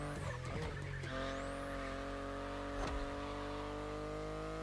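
A BMW i8 in The Crew Motorfest, its engine note holding a steady, faint, tonal hum with a brief sweep of rising pitch and a short squeal-like burst.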